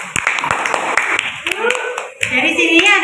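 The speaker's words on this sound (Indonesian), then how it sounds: "Kita beri tepuk tangan dulu." A class applauds a student group after their biology presentation in a classroom, with quick rhythmic clapping for about a second and a half before voices take over and talking continues to the end.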